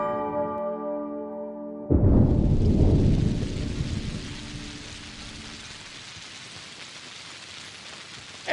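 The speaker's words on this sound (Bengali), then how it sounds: "এই দেখো আবার বৃষ্টি শুরু হয়েছে" Rain starts suddenly in a rural village during the monsoon, opening with a low rumble and then settling into a dense, steady hiss of downpour on surfaces. A brief ringing tone comes just before the onset.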